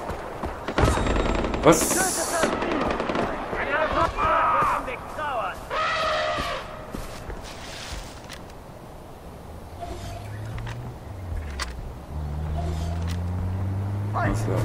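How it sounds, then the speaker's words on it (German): Gunfire in Far Cry 4, several sharp shots and bursts in the first half, some close and loud, others farther off, then fading as an engine-like drone rises, with someone speaking briefly. "Wo wird hier geschossen?"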